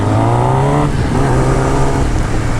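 A Kawasaki ZX10R engine revs hard during a wheelie on a group road ride, a loud, close roar whose pitch rises and shifts through the revs.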